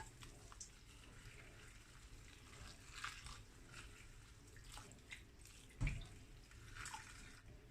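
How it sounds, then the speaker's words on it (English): Boiling water is poured into a pot of cabbage leaves for stuffed dolma, making a faint, steady trickle with one brief louder splash near the end. "Get some boiling water on it."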